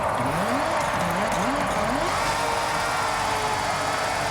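A Mad Mike Mazda RX-3 wagon drifting in Forza Horizon 6, its engine droning steadily with rising and falling revs early on, then a sustained loud hum.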